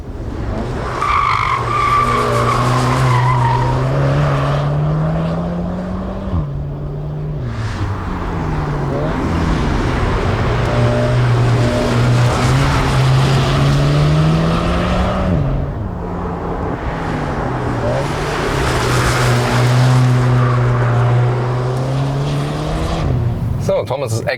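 A Seat Leon Cupra R ST AWD accelerates hard on a racetrack, its engine note climbing steadily through gears with brief dips at each shift and tyre noise throughout, loud and close, with speech over the top.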